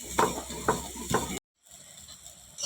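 Roasted spices for mango pickle being coarsely ground in a grinder, in three short whirring bursts close by, then a brief silence and a quieter mechanical hum.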